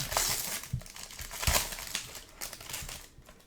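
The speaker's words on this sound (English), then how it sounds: "I hate that cellophane. It makes the most atrocious sound." Cellophane wrapper on a basketball card hanger box crinkling close up, a dense run of crackling, crumpling bursts with a few sharper tears, alone without talk.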